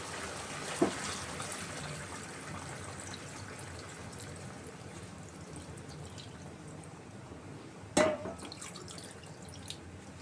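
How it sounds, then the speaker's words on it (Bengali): Water poured into a simmering rohu fish stew flows as a steady wash of sound, with a brief splash or drip standing out near the end; no voices. "এবার দিয়ে দিচ্ছি স্টুয়ের জন্য প্রয়োজনীয় জল।"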